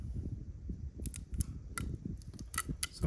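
Plastic covering being peeled and crinkled off a Ducabike rear sprocket nut for a Ducati Hypermotard 950 SP, giving close, irregular rustling and crackling with a few sharper snaps near the end.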